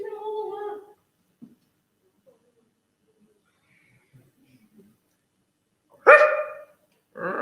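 A dog at home gives a few sharp barks, one loud bark followed by another shortly after, separated by near silence with faint household sounds.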